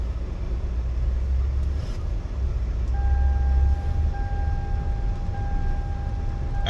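A car with a newly installed K&N air filter drives along, its low engine and road rumble steady and close throughout, with a faint tonal whine entering partway through.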